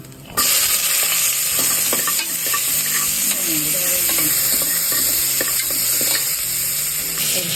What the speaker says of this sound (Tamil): எண்ணெய் காஞ்சோடனே அதில் பட்டை, சோம்பு அதெல்லாம் போட்டுக்கணும்.